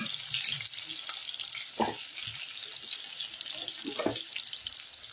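Onion frying in a pan, a steady hissing sizzle that runs throughout, broken by a couple of brief stirring scrapes, with faint voice-like sounds in the background.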